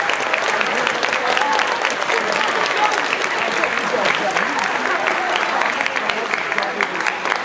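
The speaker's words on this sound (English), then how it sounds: "Let's give a big round of applause." Sustained, dense applause from a school band concert audience fills the whole stretch, steady and fairly loud with no break.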